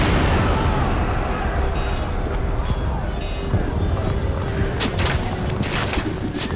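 Cannons fire in a dramatized battle scene set in Russia's Time of Troubles. Heavy booming blends into a dense, continuous roar of battle noise, with sharper cracks standing out near the end.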